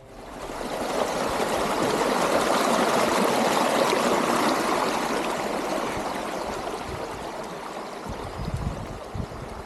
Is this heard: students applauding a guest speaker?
no